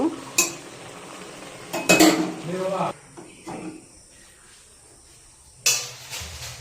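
Boiled taro leaves being strained, with pots and utensils clattering in a few sharp bursts and a softer stretch of scraping in between, close by in a home kitchen.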